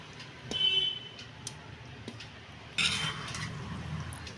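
A spoon stirs tomato curry into cooled cooked rice in a pan, making scattered metallic clinks and scrapes, then a louder burst of mixing and scraping near the end.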